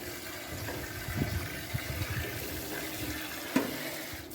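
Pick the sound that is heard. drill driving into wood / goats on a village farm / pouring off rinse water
pouring off rinse water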